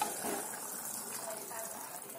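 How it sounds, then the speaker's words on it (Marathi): Water poured from a plate into a cooking vegetable curry of cowpeas, a faint steady splash and gush close by, quiet and brief. "इथे आपण ताटातलं पाणी भाजीत टाकून घेऊया।"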